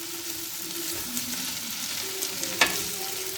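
Sauce ingredients fry steadily in a pan, a continuous close sizzle with a few soft stirring knocks and one sharp clink near the end, no voices.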